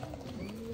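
Pigeons cooing close by, a soft, low, murmuring coo that runs steadily through the short moment without any speech over it.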